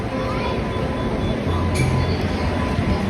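Railway platform ambience at Karjat station: a steady low rumble with a diffuse crowd murmur, plus a faint metallic ring and a brief higher hiss partway through.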